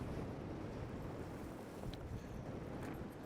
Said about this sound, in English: and that brutally cold northerly wind